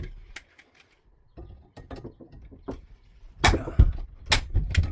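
A fitting on a shower valve plumbed with copper and PEX line is tightened with a wrench, producing close, irregular metallic clicks and ratcheting scrapes in short bursts, louder and busier toward the end.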